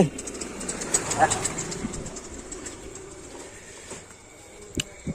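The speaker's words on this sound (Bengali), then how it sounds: "পাখি পাখি ডাকছে" Wild birds and a pigeon or dove call on a quiet morning in the Sundarbans mangrove forest, faint and scattered over a low rumbling background, with possible distant voices.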